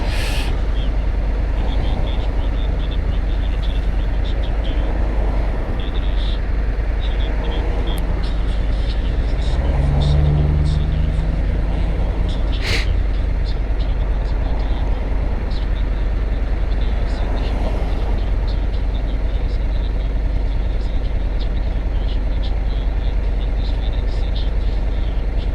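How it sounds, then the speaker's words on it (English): Road traffic on Beechmont Road at roadworks, a steady broadband rumble of passing cars and heavier vehicles with a brief hiss of air brakes midway, heard continuously from nearby with people talking throughout. "Here's the downward traffic."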